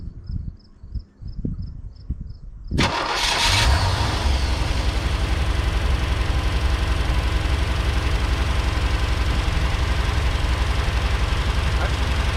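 A 1985 Chevy Corvette engine that sat parked for 20 years fires up after a quiet start and then runs steadily and loudly, a rough continuous idle filling the rest of the clip.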